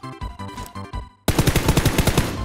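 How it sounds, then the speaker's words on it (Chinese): Automatic gunfire sprays in the mobile battle royale game Peace Elite, a first burst of rapid shots followed by a louder, denser stream of evenly spaced rounds, close and sharp with no talking. "这才扫了十发子弹"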